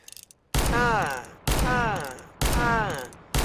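R8 Revolver fire in Counter-Strike: Global Offensive: four heavy, loud, close shots about a second apart, each one a sharp blast followed by a short ringing tail.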